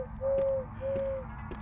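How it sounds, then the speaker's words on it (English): An animatronic bell-shaped bird in a video game gives two steady, held hoots, with soft knocking clicks around them and quiet game ambience beneath. "It's an animatronic bird, he's hooting and hollering."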